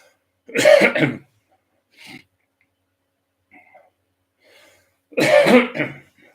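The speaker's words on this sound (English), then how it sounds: "It's not COVID or anything, but I'm coughing" Two bursts of harsh coughing, close and loud, separated by a few seconds of near-silence with faint breaths and small throat noises.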